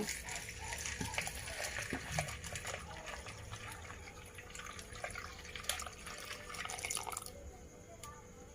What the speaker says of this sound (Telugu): దీంట్లో నేను 1 లీటర్ వాటర్ అయితే పోస్తున్నాను